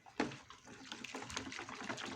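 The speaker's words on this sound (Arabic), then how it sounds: "وهحط ميه عاديه خالص من الحنفيه ساقعه عادي" Cold tap water pours steadily into a bucket holding a homemade laundry stain-remover mix, a close, continuous rushing splash that starts with a sudden gush.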